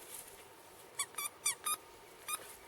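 A squeaky dog toy gets squeezed in quick bursts, about six sharp high squeaks, some doubled, over a quiet room.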